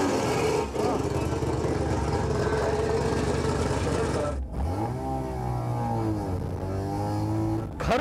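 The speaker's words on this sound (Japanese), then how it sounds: "ロータリーの乾いた音を響かせシャンテ発進。" A rotary-engine Mazda Chantez pulls away, its dry, buzzy engine note rising through revs, dropping at a clutch-in shift, then climbing again in a rising pitch sweep, close and loud.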